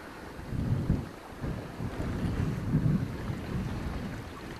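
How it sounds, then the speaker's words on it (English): Water sloshes around inside a sandy dig pit on a beach at Wellfleet, a rough broad wash that surges in uneven waves, close and moderately loud. "we're sloshing around a lot of water inside the pit"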